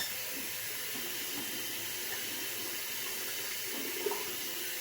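Tap water runs steadily while a razor is rinsed off after shaving with lather, a faint, even hiss with a small splash near the end.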